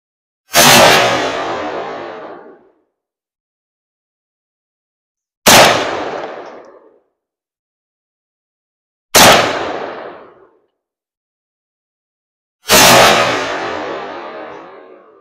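Four loud, sharp gunshots fired at a distant target, each a single crack with a decaying echo tail, spaced several seconds apart with silence between.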